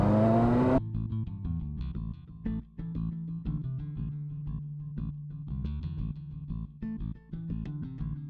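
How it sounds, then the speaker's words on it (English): Support cars speeding past a cycling race peloton, engines revving and whooshing by in a loud, close burst followed by a steady engine drone. "the support cars just sped past what was our first place rider"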